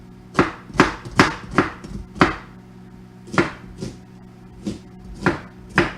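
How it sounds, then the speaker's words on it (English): A knife chops onions on a cutting board in a dozen distinct close thuds at an uneven, steady pace, with a faint background hum and no talking. "Cut your onions."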